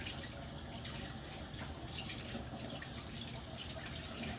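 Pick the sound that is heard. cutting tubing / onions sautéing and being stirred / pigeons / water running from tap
water running from tap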